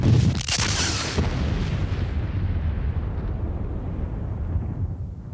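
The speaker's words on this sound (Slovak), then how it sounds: "Pred miliardami rokov táto guľa vybuchla." A sound effect of the primordial fireball exploding opens with a sharp, loud burst, then settles into a deep, sustained rumble that slowly fades, with no voices.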